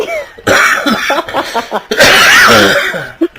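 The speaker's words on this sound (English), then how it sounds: "I apologize to all the listeners for my coughing." A person coughs and clears their throat close up, a run of rough hacking bursts with a strained, voice-like edge and no clear words.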